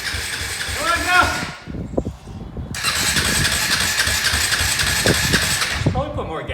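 A quad ATV engine cranks and sputters, briefly catches, then fires into a steady idle nearby while people talk over it.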